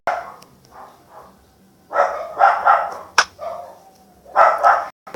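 Minecraft dogs bark in short, scattered bursts during a Sky Wars game, some yips and barks overlapping, with quieter gaps between the loud clusters.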